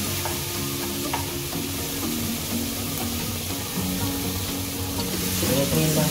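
Steady loud sizzling and crackling of pork belly frying in a hot pan, continuous throughout with occasional stirring clatter and no voices.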